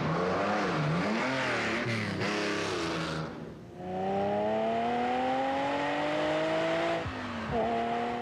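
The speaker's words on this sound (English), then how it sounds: "The car he is driving is a Lamborghini." A Lamborghini Countach sports car revs and accelerates loudly and close, its engine note climbing through gear changes with a brief dip between shifts, and there is no talk.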